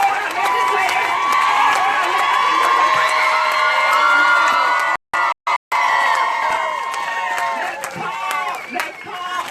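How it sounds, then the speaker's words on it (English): A large crowd at a women's march rally in Norfolk, Virginia cheers and shouts loudly with excited whoops, a dense roar that continues throughout with a couple of brief dropouts. "Give yourself a round of applause."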